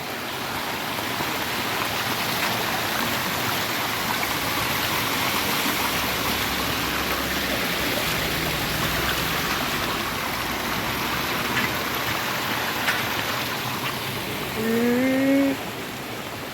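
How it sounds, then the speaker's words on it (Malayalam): Floodwater pours steadily across a submerged road near a bridge and blocked drain, a dense continuous rush with no break, and a short tonal squeal rises near the end. "റോഡ് മുഴുവൻ നിറഞ്ഞൊഴുകയാണ് വെള്ളം"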